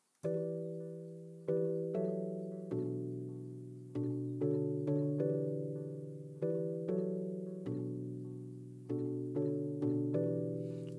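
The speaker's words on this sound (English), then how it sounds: "I'm using a soft guitar sound from Omnisphere." Soft, sustained guitar-like synth chords from Omnisphere move through a slow progression, each chord struck with a clear attack and left to ring. The changes come roughly every second or so, quiet and alone, with no talking.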